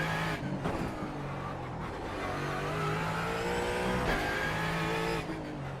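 A Ford Mustang GT4 race car in the iRacing simulator, its engine droning loudly and continuously with rising and falling revs and faint tire squeal, with no talk.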